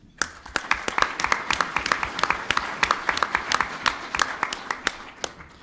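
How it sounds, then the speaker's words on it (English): Audience at a Milwaukee Rotary Club gathering applauds the makers of a documentary, a close, crisp round of individual claps forming a steady rhythmic patter that runs throughout and tapers near the end. "I think that they really do deserve another round of applause"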